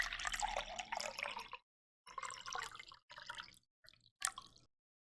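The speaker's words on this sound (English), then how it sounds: "can I interest you in a wonderful water pouring sound?" Water pours in several short bursts separated by silent gaps, close and fairly quiet, with splashing and dripping trickles between longer streams.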